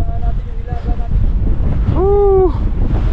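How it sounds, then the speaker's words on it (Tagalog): Strong wind blows across the foggy summit of Mt. Timbak, a loud, constant buffeting roar against the microphone, with a brief voice whooping partway through. "Tsaka napakalakas ng hangin."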